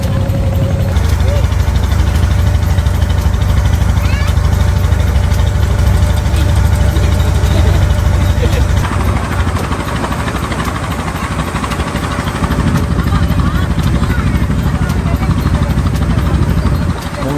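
A trawler's engine drones steadily and loudly from start to finish, a low rumbling hum carrying across a river near Mongla in the Sundarbans, with no letup.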